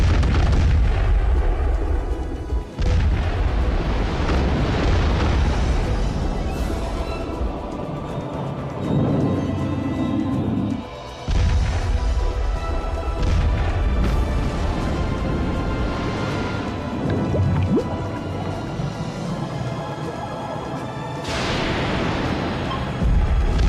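Heavy gunfire and artillery rumble continuously, dense and loud with booming low blasts and crackling bursts layered over one another in a chaotic barrage.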